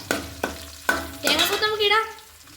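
Food stirred in a frying pan while cooking at home, with a few sharp scrapes of the spoon followed by a bright sizzling burst, close and loud.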